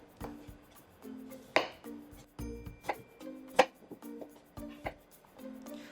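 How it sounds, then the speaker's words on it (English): A knife chops peeled potatoes into big chunks on a board, a run of sharp, close, irregular thuds and clicks with quiet pauses between cuts. "And our potatoes has now been finished peeling off, and we'll need to cut it into big chunks"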